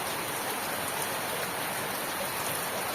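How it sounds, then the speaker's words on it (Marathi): Heavy rain pours down steadily on the third day of nonstop downpour, a dense, even hiss with no pauses and no voices. "बालट्या भरू शकते एवढा पाऊस तर येऊनच राहिला"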